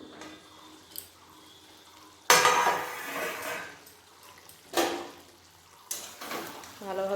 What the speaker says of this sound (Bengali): একবার নেড়ে নেব